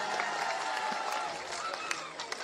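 Loud, sustained applause and crowd cheering for the musicians at a 2025 annual function, a dense steady roar of clapping with occasional sharper claps standing out near the end.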